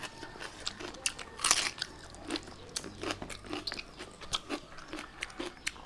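Cooked shrimp being eaten up close: repeated crisp bites and crunchy chewing in an irregular rhythm, fairly quiet, with no talking.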